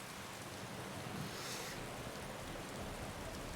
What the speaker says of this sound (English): I am liking those rain sounds